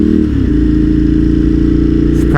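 A Ducati V-twin motorcycle engine pulls hard under acceleration, with a loud, steady, throbbing low rumble that rises slightly in pitch and holds close and continuous throughout.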